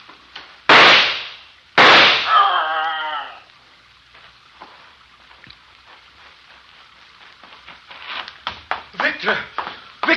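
A gunshot cracks out in a Frankenstein film, two sharp loud bursts near the start followed by a bleating animal cry, then quieter movement and voices speaking toward the end.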